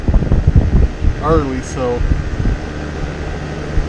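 Electric fan running in a hot Texas workshop during boat outboard motor work, a steady close whir and hum under a voice with brief squeaky tape sounds.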